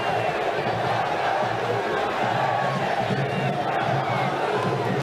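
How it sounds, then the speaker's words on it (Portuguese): Continuous crowd noise from football supporters protesting in the stands at São Januário stadium late in a Vasco match, a dense, steady roar of voices and chants with no pauses. "A reta final da partida foi marcada por mais protestos da torcida em São Januário"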